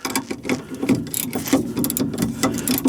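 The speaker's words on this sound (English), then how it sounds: "We're gonna start taking off this first bolt, 14 millimeter," A ratchet wrench loosens a 14 mm strut bolt on a 30-year-old Honda Civic, giving close, loud, rapid clicking with metallic clatter that continues for the whole stretch.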